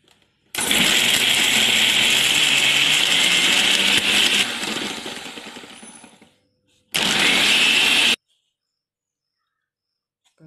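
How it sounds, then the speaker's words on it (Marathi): A kitchen mixer grinder grinds a sautéed ginger-garlic masala paste with a little water, a loud continuous whirring roar. It runs for about six seconds and winds down, then comes back in one short burst before the clip ends in silence. "आता मी हे सगळं जे आपण परतून घेतलं होतं ते वाटण मी मिक्सरमध्ये बारीक करून घेते."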